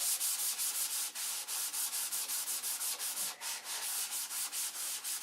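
Steady back-and-forth hand sanding of primer, rhythmic gritty strokes repeating about four times a second, close and fairly loud with no talking.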